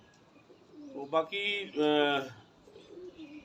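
Pigeons, kept by a fancier breeding Black Moti and high-quality breeder birds at Mian Mir, coo in a couple of close, throaty bursts while someone talks nearby.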